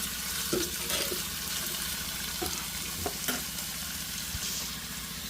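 Pumpkin pieces seasoned with salt and chili fry in a pan, giving a continuous close sizzle with a few soft stirring knocks and clinks, no voices.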